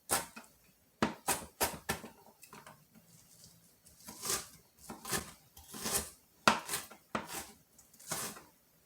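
A knife chops onion quickly on a cutting board in irregular bursts of sharp, close taps, with short pauses between runs.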